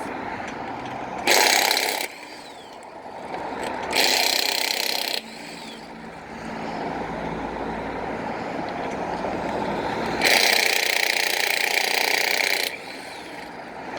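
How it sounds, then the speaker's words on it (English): A battery impact wrench loosens lug nuts on a 2019 Lincoln Navigator wheel, hammering in three separate bursts of rattling impacts between quieter stretches of background noise. "So I'm going to use my trusty assistant, the spare tire, once again, and get these lug nuts loose."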